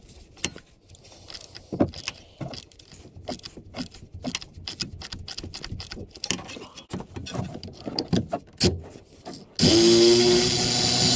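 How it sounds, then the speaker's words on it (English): A T25 Torx screw is being removed with a socket while replacing a rear wheel bearing on a 2013-2020 Ford Fusion/Mondeo: a close run of irregular metallic clicks and clanks, ending in a sudden loud, steady burst of noise. "to remove the screw, we're going to use this torque socket."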